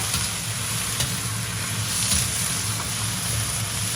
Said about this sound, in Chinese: 把我们炒好的豆腐也给它加进去，继续翻炒